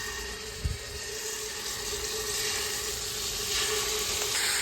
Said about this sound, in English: We're just gonna throw in our meat.